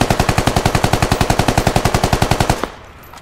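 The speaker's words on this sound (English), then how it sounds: "I think he's just shooting for the fun of it" Sustained automatic gunfire in the video game Squad, a rapid, evenly spaced burst of about thirty loud, close shots that stops abruptly, leaving faint background noise.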